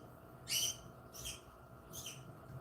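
A pet bird kept indoors gives three short, high chirping calls spaced about a second apart, faint against a quiet room with no talk.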